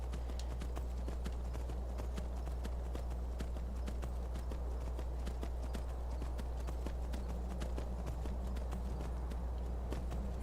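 Horse hooves clip-clop steadily in the Skyrim video game, an even run of light, rapid hoof strikes over a constant low rumbling background.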